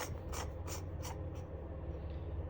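Handle of a battery-powered device being screwed back on by hand, a faint series of about five quick ratcheting clicks close by, evenly spaced and then trailing off.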